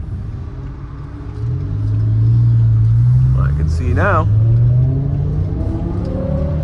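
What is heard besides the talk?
BMW E60 M5 engine driving through a tunnel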